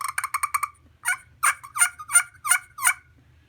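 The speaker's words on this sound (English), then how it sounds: "you make little clucks, little purrs." A mini wild turkey tree call with an anodized aluminum surface and a striker gives a quick run of sharp clucks. Several slower, raspier purring yelps follow, close and clear with no talk.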